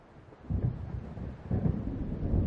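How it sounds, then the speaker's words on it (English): Low rolling thunder from a storm moving in over a lake in the game Alan Wake, deep rumbles building in two swells with no talk over them. "It seems there's a storm coming."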